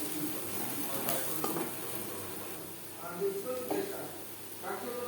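Onions fry in oil in a pan while cooking prawn-head bharta, a soft continuous sizzle with occasional stirring scrapes, faint and close, as a voice talks over it.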